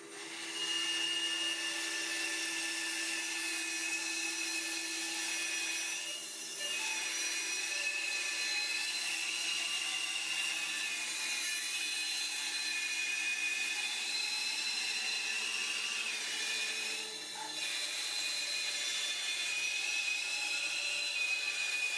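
A power tool cuts boards for an outdoor wooden bench, a steady loud whine that holds for the whole stretch with two short dips, heard close up with no voices.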